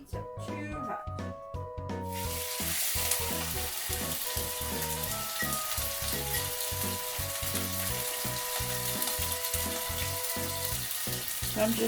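A chicken fillet fries in oil in a pan, with a loud, close, continuous sizzle that starts after a brief quieter moment and crackles on steadily.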